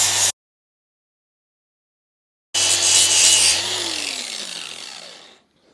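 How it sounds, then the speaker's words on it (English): An angle grinder trims a Boer goat's hooves, giving a harsh, loud grinding rasp heard close, starting with a brief burst, then a gap, then a longer run that winds down as the motor spins to a stop. "I'm going to show you using the angle grinder without taking any of the other off"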